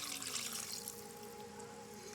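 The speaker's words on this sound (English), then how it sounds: "Add that water in." Water pours steadily into a cooking pot in a kitchen where oxtails are being prepared, a soft continuous trickle and splash lasting a couple of seconds.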